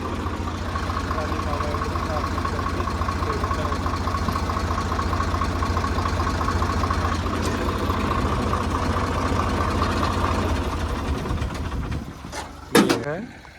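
A steady, low tractor engine idles continuously with a rumbling drone, then cuts off near the end, followed by a brief clunk.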